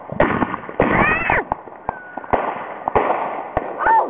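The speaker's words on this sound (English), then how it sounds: "This is a mortar shell." Mortar shell fireworks are set off at a family backyard display. Several sharp pops and bursts ring out, the launches thumping and the shells cracking overhead, loud and close with brief gaps, while voices talk faintly in between.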